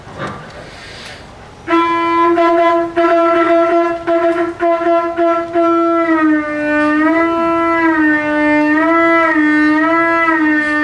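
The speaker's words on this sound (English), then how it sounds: "if you buzz your lips for at least 5 seconds, you can create signals by tapping your tongue behind your lips" A steady brass-like horn tone blown from a conch shell, holding one pitch then wavering and bending up and down, loud and close, with no talking.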